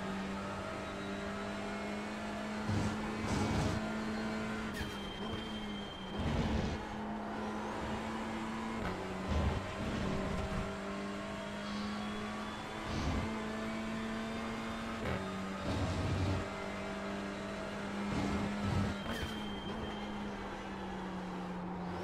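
A video game TCR race car engine at Donington Park drones at full throttle in a steady, buzzing tone, with brief gear-shift dips and bursts repeating every few seconds.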